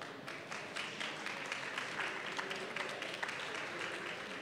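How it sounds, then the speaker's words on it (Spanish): Audience applauds a speaker at a startup talk, an even wash of many hands clapping at moderate, fairly distant volume throughout. "Démosle un fuerte aplauso,"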